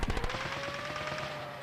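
Rapid machine gun bursts from a Stranger Things TV episode crackle loudly at the start, then fade into a sustained humming, rumbling background with faint scattered pops.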